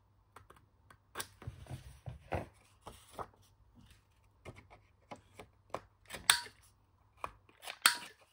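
Scissors cut through paper in a quiet room, a series of short crisp snips and slices at irregular intervals, close and fairly soft.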